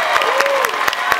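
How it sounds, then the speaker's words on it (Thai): Audience applause at the TrueInnovationAwards ceremony, a short burst of dense clapping from a crowd, steady and fairly loud throughout. "ขอเสียงปรบมือดังๆหน่อยครับ"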